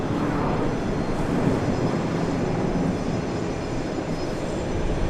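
A Southwest airliner lands on runway 13 left at Dallas Love Field, a loud, steady broadband roar of engines and rushing air that holds evenly throughout without speech.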